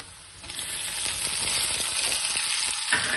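Chopped onions frying in oil in a pan for a ridge gourd curry, a steady close hiss and crackle of sizzling with faint stirring scrapes beneath, no talk.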